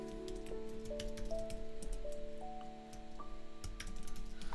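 Quiet, rapid clicking of keys on a computer keyboard as text is entered into a Canva design, with a steady low hum in the background.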